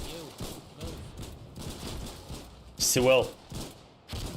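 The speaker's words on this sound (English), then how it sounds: "We're getting shot from the right." Scattered gunfire in the war game Foxhole, with one louder burst of shots and a few muffled distant pops under steady talk from several players.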